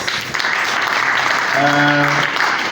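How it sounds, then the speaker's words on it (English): Audience applause fills a quantitative research methodology workshop hall, a steady dense clatter of clapping close by that holds throughout, with a voice briefly sounding over it near the end. "please, another round of applause."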